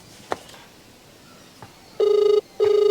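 A telephone rings in a home: two short electronic ring bursts, about half a second each with a brief gap between them, close and clear against quiet room tone.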